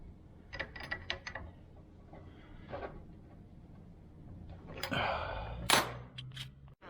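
A stainless steel PTFE hose fitting is tightened down by hand, producing sharp metallic clicks and ratcheting taps in short clusters, then a louder scraping, clattering burst near the end.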